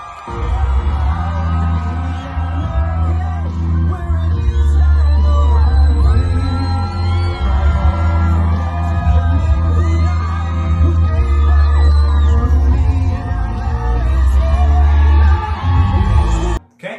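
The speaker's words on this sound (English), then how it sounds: "Here's what the crowd energy looked like here at the actual event" A packed crowd at a Donald Trump rally roars, cheers and yells continuously and loudly for a long stretch, with music underneath, and stops abruptly at the end.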